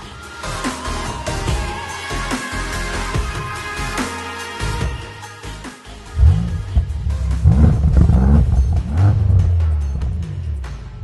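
A BMW M5 CS, a 635-horsepower performance sedan, accelerates hard, its engine and exhaust swelling into a deep, bassy roar close by, with loud revving surges building toward the end.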